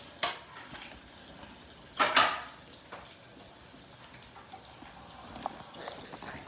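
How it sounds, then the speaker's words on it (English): A quick stir in a pan of melted butter and candied ginger brings two sharp metallic clanks of the utensil against the pan, then softer scraping and light taps nearby. "along with that, I'm gonna give this a quick stir"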